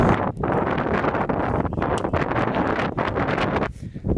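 Strong wind on an open mountain ridge in the White Mountains of New Hampshire, a steady loud roar with gusty buffeting against the microphone throughout.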